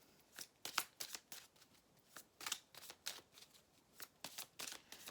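A deck of advice cards is shuffled up close, giving repeated crisp papery riffling bursts in an irregular rhythm against near silence.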